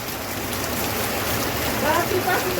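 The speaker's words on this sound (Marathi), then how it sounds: "किती मुसळधार पाऊस आहे, एकदम जोरात पाऊस आहे" Heavy torrential rain pours down in a steady, dense hiss during a red-alert downpour, loud and continuous, with a voice faintly present beneath it.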